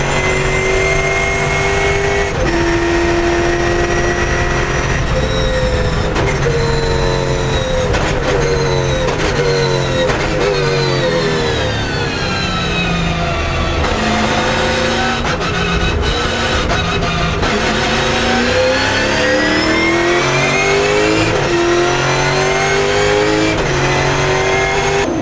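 A Mirage race car, known to have an unfixed fault, revs hard on a circuit, its engine rising and falling through gear changes in a continuous loud, close roar with no pauses.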